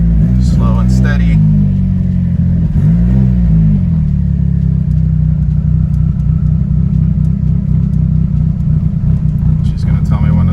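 A 660 whp Mitsubishi Evo 9 street car rolls slowly onto a vehicle scale, its engine a steady low rumble throughout while someone talks over it.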